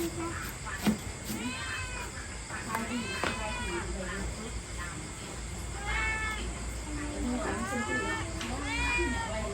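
A cat meows repeatedly in a rural Thai home kitchen, several drawn-out mews spread across the moment, with people talking nearby and household background noise.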